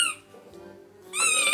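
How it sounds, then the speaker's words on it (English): A squeaky toy gives two close, bright, high-pitched squeaks, one at the start and a longer one at the end, with a quiet pause between. "I own a lot of squeaky toys,"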